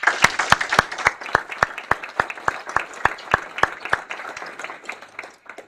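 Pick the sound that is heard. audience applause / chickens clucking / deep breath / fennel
audience applause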